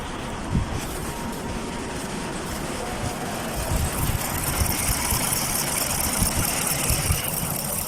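A Chevrolet Caprice engine running rough with a multiple-cylinder misfire and no spark from the bank 1 coil, a loud, steady, uneven mechanical drone heard up close throughout.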